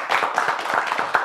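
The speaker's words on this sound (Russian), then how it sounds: "Аплодисменты ей." Audience applause in a Gomel evening TV studio honouring a songwriter, a steady dense patter of many hands clapping at moderate loudness, filling the whole moment without talk.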